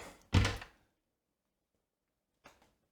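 A door on a small storage shack is pushed open with one loud, close thunk, followed after a pause by a fainter, shorter knock.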